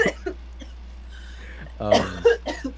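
A few harsh, exaggerated cartoon coughs from The Amazing World of Gumball, one at the start and a burst of heavier hacking after a short pause, close and loud.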